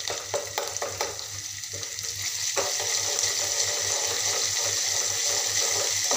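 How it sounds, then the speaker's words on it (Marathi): Garlic and cumin sauté in hot oil with a dense, close sizzle. A few stirring scrapes come early, then the frying hiss swells and holds steady. "तर मी आता लसूण जिरं सोडते। याला पण छान असं मस्त तेल सुटेपर्यंत परतून घेऊ।"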